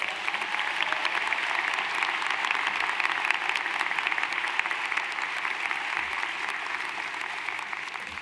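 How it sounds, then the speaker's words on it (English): A commencement crowd gives sustained, warm applause for a dean, a dense, uniform clatter of many hands clapping at steady loudness with no talk. "Please give a warm round of applause for Dean Michael Foyer."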